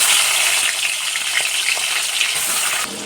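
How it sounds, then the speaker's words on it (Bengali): Prawns coated in salt and turmeric fry in hot oil with a loud, steady hissing sizzle that drops off slightly near the end. "ওই তেলেই দিয়ে দিচ্ছি আমি লবণ হলুদ মাখানো চিংড়ি মাছ"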